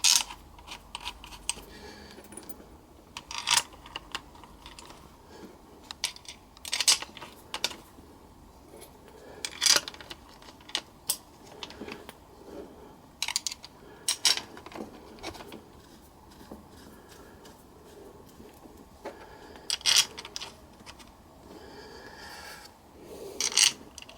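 Bolts go into a Honda C90E engine casing during reassembly, heard as sporadic small metallic clicks, taps and scrapes close by, with quiet pauses between them.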